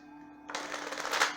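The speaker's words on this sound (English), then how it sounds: "Let's give this a good shuffle." A deck of tarot-style cards being shuffled by hand, a quick riffling burst after a brief quiet moment, close and crisp.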